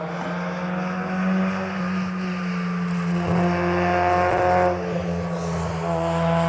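A small Mini racing car at the Doune hillclimb roars past close by, its engine note steady and loud throughout with a brief rise in the middle, heard alone without voices.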